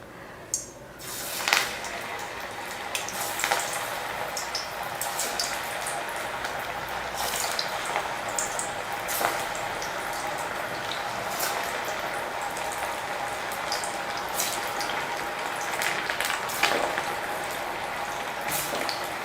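Masala vadas fry in hot oil, a continuous bubbling sizzle with scattered sharp crackles and spits that carries on without a break, moderately loud and close.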